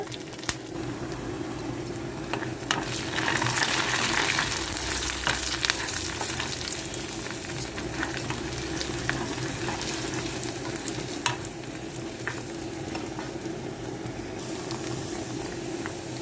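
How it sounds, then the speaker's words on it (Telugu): A tempering of garlic, black gram and chana dal, mustard seeds, cumin and curry leaves fries in hot oil, giving a steady close sizzle with crackles and occasional stirring scrapes throughout. "వెల్లుల్లిపాయలు ఎర్రగా వేగిపోయినాయి కదా"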